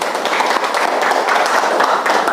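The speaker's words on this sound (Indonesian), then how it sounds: "Tepuk tangan untuk Fiona ya." A classroom applauds a pupil named Fiona with a short burst of brisk, fairly loud clapping from many hands, with no talk over it.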